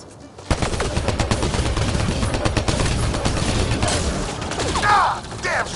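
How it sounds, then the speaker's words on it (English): Dense, loud automatic gunfire from a Mass Effect Andromeda battle rattles almost without pause for several seconds, with sharp cracks and rapid bursts and a voice shouting over the shooting near the end. "Just keep firing, we can do this!"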